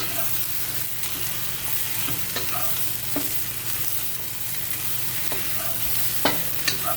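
Eggplant and bell peppers stir-fry in a hot pan with a steady, soft sizzle broken by occasional scrapes and taps of a spatula against the pan.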